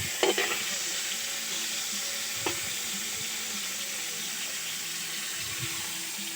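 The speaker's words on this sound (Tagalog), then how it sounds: "Okay, prito pa ang isda." Fish frying in a pan, a steady sizzling hiss with a few sharp pops and clinks, close by and without talking.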